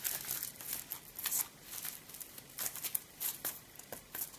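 Tarot cards are shuffled by hand in soft, close papery riffles and flicks, quiet crisp bursts repeating irregularly with no talking.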